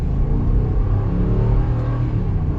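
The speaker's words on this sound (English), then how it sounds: "Gosh, I love the sound of that Hemi." A 2021 Ram 1500 Warlock pickup with a Hemi V8 accelerates at full throttle, a deep, loud, sustained engine rumble heard from inside the cab, steady and unbroken, with no talking.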